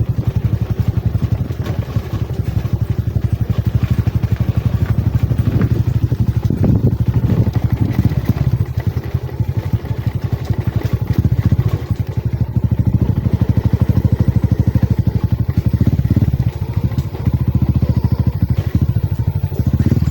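A motorcycle engine runs steadily and loudly close by, its low rumble and rattle continuing throughout with no talking.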